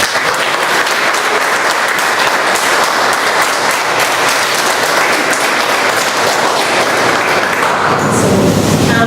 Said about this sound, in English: I request you to give a big round of applause for our lovely Bombay Toastmasters Club